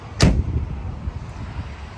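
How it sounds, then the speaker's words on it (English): A car door on a 1969 Chevrolet Camaro Z/28 swings shut with one solid close-range thump, followed by a low idling engine rumble. "Shut the door here."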